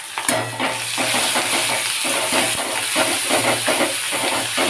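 Garlic and ginger paste fry in hot oil over browned onion for a chicken curry, a loud continuous sizzle and hiss with stirring scrapes throughout, no talking.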